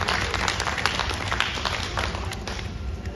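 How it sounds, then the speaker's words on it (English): A small audience at the Corning Museum of Glass applauds a glassworking team after a clean glass break, with steady, dense clapping running throughout at moderate volume. "I say we give the team a round of applause for breaking glass"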